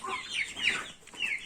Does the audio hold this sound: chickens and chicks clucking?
yes